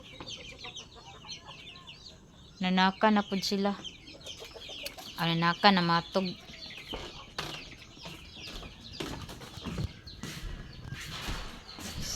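Chickens cluck in short bursts around people talking nearby, with a few louder clucking runs standing out over a busy outdoor background.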